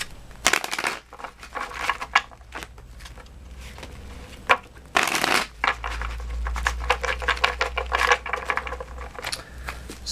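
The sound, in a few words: shuffling tarot cards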